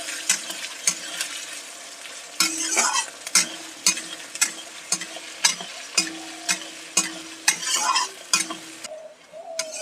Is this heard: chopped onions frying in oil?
yes